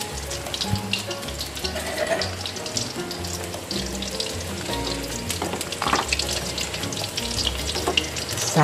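Sayur lodeh, an Indonesian vegetable stew, bubbles at a boil in a pot while being stirred, giving a busy, continuous bubbling and sizzling texture with occasional spoon knocks, close and fairly loud.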